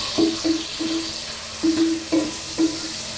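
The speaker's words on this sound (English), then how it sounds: "add 2 finely chopped tomatoes, and to this add little bit of salt, and fry them nice and thoroughly." Finely chopped tomatoes with a little salt fry in a pan for mutton keema ball curry. A soft sizzle runs underneath while a utensil scrapes and stirs in short, repeated strokes close by.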